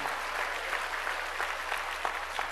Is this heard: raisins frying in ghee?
no